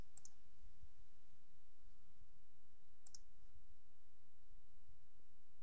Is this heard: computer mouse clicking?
yes